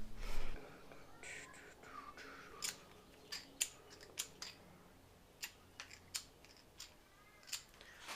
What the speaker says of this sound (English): I'm gonna go set up my torque wrench for 47 pound-feet.